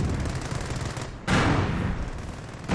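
Sustained automatic fire from a machine gun position in the World War II strategy game Company of Heroes, a dense, continuous rattle that swells louder after a brief dip and keeps going to the end.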